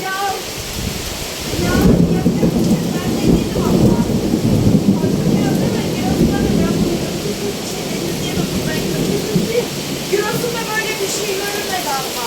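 Heavy rain and rumbling thunder during a storm in Denizli, Turkey: a dense, steady downpour swells suddenly as a deep roll of thunder builds, with faint voices nearby.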